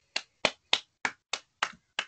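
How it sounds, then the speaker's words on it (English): A handful of sparse, isolated claps, about seven single slaps spaced evenly apart, thin and quiet with silence between them. "Round of applause for Easton."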